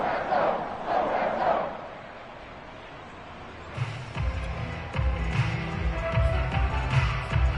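A football video game crowd cheers and applauds the defense, a roaring wash that dips briefly before swelling again into loud, sustained cheering and clapping with rhythmic low thuds.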